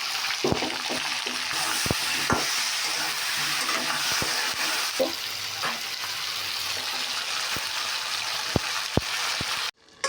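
Cauliflower fries and is stirred in a pan, giving a continuous close sizzle with repeated sharp utensil taps and scrapes that end abruptly at the close.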